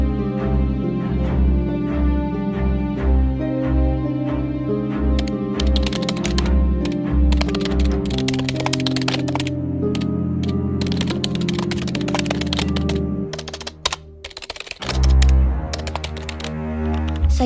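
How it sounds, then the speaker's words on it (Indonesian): A typewriter typing out the text of the Indonesian proclamation, heard as rapid bursts of sharp key strikes over a sustained music bed, with a short pause near the end. "Sayuti Melik pun mengetik teks tersebut"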